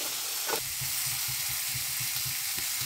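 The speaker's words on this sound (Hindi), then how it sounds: "और अब हम इसे अच्छे से ऐसे भूनेंगे" Spices with garam masala, turmeric and salt fry in a pan for a carrot and pea curry, giving a steady loud sizzle with a regular soft scraping rhythm of stirring.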